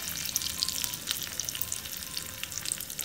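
Chopped chilies and ginger sauté in a hot pan, giving a steady, close, crackling sizzle with fine popping throughout and no voices.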